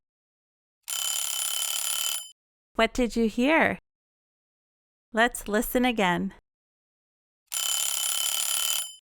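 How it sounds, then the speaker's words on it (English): A kitchen timer rings with a bright, sustained electronic tone, played twice with spoken talk between the two rings. "It's the kitchen timer, letting us know something's ready."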